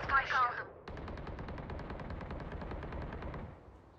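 Rapid automatic gunfire sprays in the video game Valorant, a dense, steady burst of shots lasting about three seconds after a brief moment of talk.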